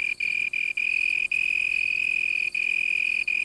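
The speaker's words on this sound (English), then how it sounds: "To advertise for a mate, the male cricket has developed a system comparable to a loudspeaker" A male cricket, calling from a leaf, chirps in a steady, loud, continuous trill, broken by a few brief gaps.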